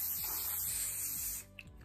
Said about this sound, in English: I'm just gonna give it a spray.